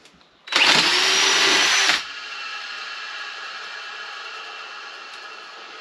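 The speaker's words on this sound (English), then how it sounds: "Yep, a little bit on the noisy side. And this is an old alternator that I pulled out the shed." An old alternator pulled from a shed, fitted to a Land Rover 300 Tdi, runs with a loud, steady whirring whine for about a second and a half, then drops to a quieter continuous hum that carries on to the end.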